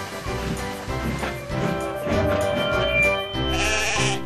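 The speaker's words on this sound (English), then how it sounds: "Sir Handel had to check suddenly to avoid running over a sheep" Sheep bleating, several drawn-out wavering calls one after another over a busy, full background, fairly loud and close, with no talk.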